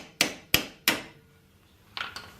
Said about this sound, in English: Now you need to hammer that bolt out too.